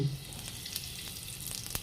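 Asafoetida dropped into hot mustard-style oil in a wok for mango pickle, giving a steady close sizzle with a brief louder burst at the start and faint crackles throughout, no talking.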